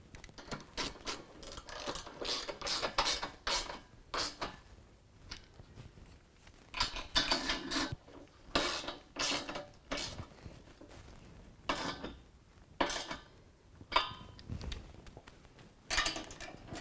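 Running board bracket bolts being tightened on a Chevy Silverado for a Havoc HST running board install, heard as bursts of ratcheting clicks and metallic rattles in short irregular runs.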